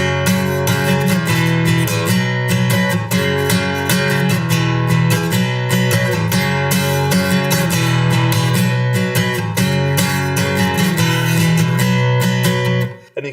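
Guitar strumming a song's chords at full song speed, a dense, steady, driving rhythm of bright chords played continuously and loudly with no voice.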